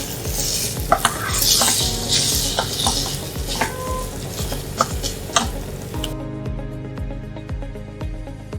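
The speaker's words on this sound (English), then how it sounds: "After frying all the same ingredients which was used for veg cheese balls, putting minced chicken into it." Minced chicken sizzles and fries in a pan with the fried ingredients for cheese ball mixture, with steady close frying hiss and repeated spoon stirring scrapes throughout.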